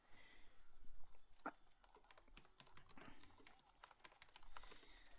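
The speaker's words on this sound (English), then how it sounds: "I'm just typing in the name of the tailor" Quiet, irregular keystrokes on a computer keyboard as a tailor's name is typed in, faint and close with soft background noise and a hint of a voice.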